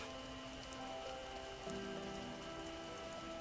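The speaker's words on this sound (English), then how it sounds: "A soft blue rain falls." Soft rain falling in the Path to Nowhere game, a quiet, steady patter with low ambient hum and faint tonal drones beneath, no voices.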